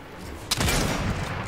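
Video-game gunfire bursts out abruptly during a car chase, a sharp crack followed by a loud, sustained rattle of shots over a constant background bed.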